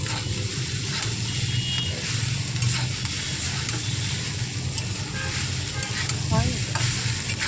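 Egg chowmein with sauce sizzles and fries in a pan while being stirred, a steady close hiss with scraping stir strokes throughout.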